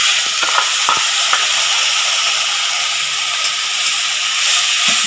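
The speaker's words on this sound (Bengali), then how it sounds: "এখন আমি আদা রসুন কাঁচা লঙ্কা আর পেঁয়াজের পেস্টটা দিয়ে দিচ্ছি" A paste of ginger, garlic, green chili and onion hits hot oil in a pan, giving a loud, steady, continuous sizzle and hiss close by, with a few faint clicks and no talking.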